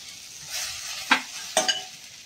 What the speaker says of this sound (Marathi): आता हा कांदा थोडा सोनेरी होत आलाय। आता ह्याच्यात आपण आलं, लसूण